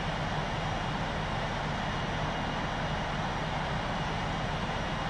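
Engines of a Cathay Dragon Airbus A330 roar during takeoff, heard from inside the cabin as a steady, broad rushing drone that stays even throughout.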